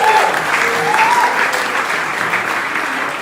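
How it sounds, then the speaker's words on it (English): Audience applause at an evening gathering at Casa Loma, a steady dense wash of clapping from a large crowd, loud and continuous throughout with no talking over it. "Give them an applause for them."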